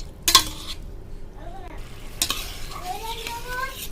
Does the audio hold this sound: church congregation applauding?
no